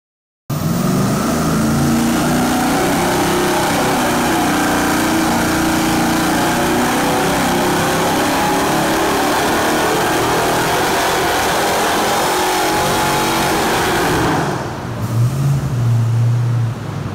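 A junkyard LS 4.8 liter V8 fitted with an M90 supercharger revs under boost on a dyno, a loud sustained roar that climbs and holds steadily for about fourteen seconds before dropping to a lower idle-like rumble.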